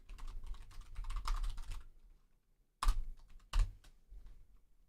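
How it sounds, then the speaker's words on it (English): Bursts of typing on a computer keyboard, a dense flurry of close keystrokes that pauses into near silence, then a couple of sharp isolated key hits and lighter scattered clicks. "You guys are getting a behind the scenes look at my awful typing"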